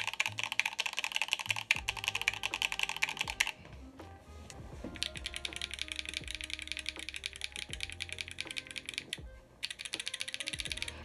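Fingers type on a mechanical keyboard fitted with Gateron Oil King switches, producing a close, rapid stream of clacky keystrokes with two brief pauses.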